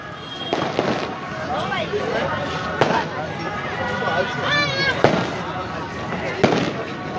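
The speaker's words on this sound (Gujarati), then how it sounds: "આતશબાજીનો તો જે કંઈ મિત્રો કાર્યક્રમ છે એ હજી એમણામ ચાલુ જ છે" Fireworks go off over a crowd beside the Samantsar lake in Halvad, with sharp cracks and pops at intervals and whistling rockets, all under steady close-up talk and the murmur of onlookers.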